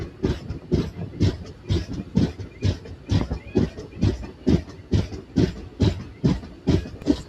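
A train runs along the line near Rahimatpur station on the Satara–Kolhapur route, its wheels clattering over rail joints in a steady, evenly spaced rhythm, close by and continuous with no voices.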